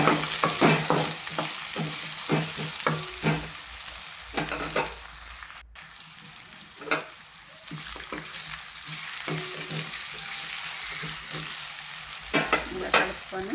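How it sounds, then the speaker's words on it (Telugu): Potatoes and onion frying in a pan with steady crackling sizzle, broken by repeated scraping stirs of a spoon against the pan, close and continuous throughout. "ఇలా ఉల్లిగడ్డ మాడే వరకు కొద్దిగా వేయించుకొని తర్వాత ముందుగా కట్ చేసి పెట్టుకున్న ఆలుగడ్డలు వేసుకోవాలి. వేసుకొని కలుపుకోవాలి."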